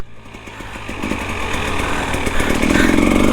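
A one-armed Husky TPI motorcycle's two-stroke engine buzzes close by, rising steadily in pitch and loudness as the throttle opens, with a raspy, rapidly pulsing exhaust note.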